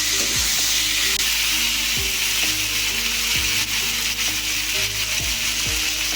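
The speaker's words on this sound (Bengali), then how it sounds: "একটু ভাজা করবো" Steady, loud sizzling of vegetables frying in a pan for shukto, with a spatula scraping and stirring every second or so underneath the hiss.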